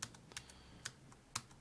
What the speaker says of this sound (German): Hört sich die Tastatur nicht schön an?